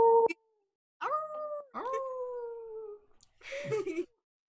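Several voices howl in imitation of wolves at an improv jam, with a few long rising and falling howls near and clear, separated by short pauses, ending in a rougher, breathier howl.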